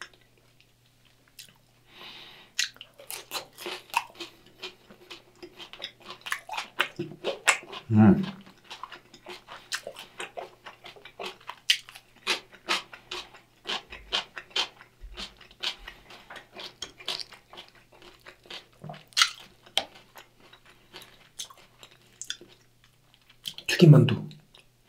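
Crisp crunching bites and chewing of deep-fried Vietnamese nem rolls, minced meat and vegetables wrapped in rice paper, close and intermittent throughout, with a few louder crunches near the middle and end.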